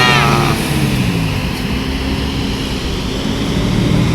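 An ANS intercity bus heading from Jabodetabek rolls past on the road at night, a loud, close engine drone with a rising whine fading into steady road roar.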